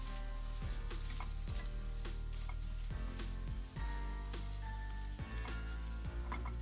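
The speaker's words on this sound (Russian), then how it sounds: "Затем высыпаем измельченный лук и обжариваем еще примерно 2 минуты." Chicken fillet and chopped onion fry in vegetable oil in a pan, a steady close sizzle with repeated stirring scrapes and soft crackles throughout, no voices.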